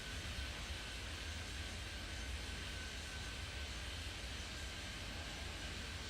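A steady, broad jet roar of an airliner taking off in the Airport Madness 3D airport game holds evenly throughout, loud and continuous with no voices.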